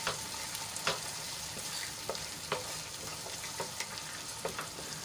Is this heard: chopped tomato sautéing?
yes